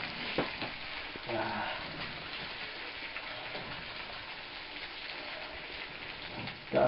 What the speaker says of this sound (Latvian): Viņi turpinās cepties.